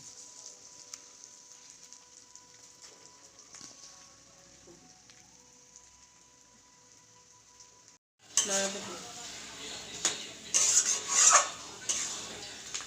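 After a quiet hum, a loud sizzle bursts in as boiled potatoes are added to fried chopped ginger and garlic, with metal utensils scraping and clinking against the pan as it is stirred.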